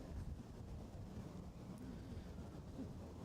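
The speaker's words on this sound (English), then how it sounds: "It is starting to become very windy down here at the moment" Steady wind rushes and buffets the microphone outdoors at a Sussex league cricket ground, a continuous low rumbling roar with no clear gusts standing out and no talk.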